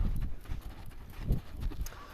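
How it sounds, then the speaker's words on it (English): A horse's hooves beat out a steady loping rhythm on the ground in a training session, clear and fairly close, with no voices over them. "So I'm going to ask for a lope."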